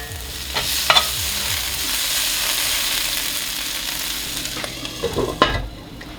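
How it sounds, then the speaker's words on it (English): Onions caramelize in a hot pan with a close, continuous sizzle and hiss, interrupted by a few sharp stirring clanks of a utensil against the pan near the start and end, with no talk. "It's caramelizing these onions. They're looking absolutely fantastic. I am going to let them cook just another few minutes"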